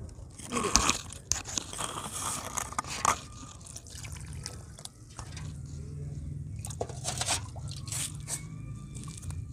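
Brittle textured material, likely a dry clay-like substance, is crunched and crumbled by hand in a series of sharp, close crackling bursts with gritty, softer crumbling between them.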